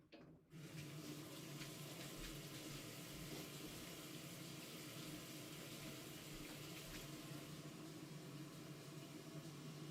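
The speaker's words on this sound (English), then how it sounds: "I'm just gonna get some water, by the way." Tap water running steadily into a sink or glass, a continuous broadband rush after a brief start, fairly close and alone without talk.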